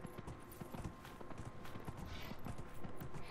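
Horse hooves clip-clop steadily in Dragon Age: Inquisition, a continuous, fairly close rhythm of hoof strikes over busy game ambience, with no talking.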